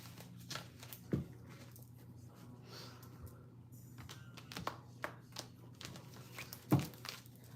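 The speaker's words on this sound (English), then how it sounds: "I'm gonna shuffle again" Tarot cards are shuffled by hand in a quiet room, with soft riffling and scattered sharp taps and flicks as the deck is handled, close and fairly faint.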